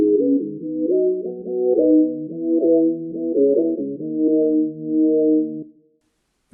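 Moving synth chords built in Serum from two sine waves, smooth pure tones shifting pitch in a groovy stepping pattern for about five seconds before fading out.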